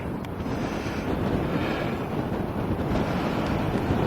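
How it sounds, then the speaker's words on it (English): Strong wind on the hilltop of Brent Knoll, Somerset, roars and buffets across the microphone, a constant rushing noise with gusty swells and no voices. "Getting a bit windy up here again now"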